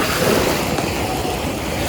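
Steady wash of surf rolling onto a white sand beach at Patar, Bolinao, a continuous broadband rush with a bit of wind noise, no distinct voices.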